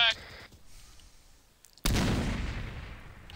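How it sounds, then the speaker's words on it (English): A frag grenade going off in a video game, a short quiet lead-in and then one sudden loud blast that rumbles and fades over the next second or so. "Tossing a frag!"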